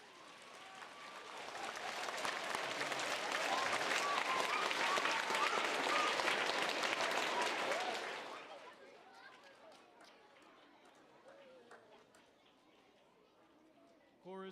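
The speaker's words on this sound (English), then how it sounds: "Another round of applause." Applause from a crowd at an elementary school recognition ceremony, swelling to a broad sustained roar for several seconds, then thinning to scattered claps and murmuring voices as it fades out.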